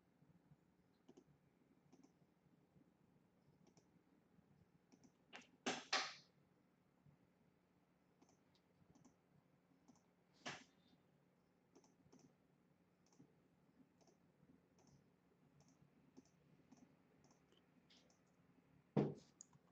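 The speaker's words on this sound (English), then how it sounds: "I'm going to right mouse click, go to normal." Sparse, quiet computer mouse clicks, including right-clicks in embroidery digitizing software, a handful of sharp single and double taps spread out over a near-silent room with a faint electrical hum.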